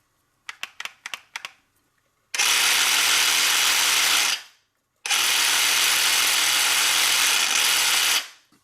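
A blade is fitted into a Parkside PSSA 18 A1 cordless sabre saw with a few quick mechanical clicks. Two long, loud runs of the saw's motor follow, each lasting a couple of seconds.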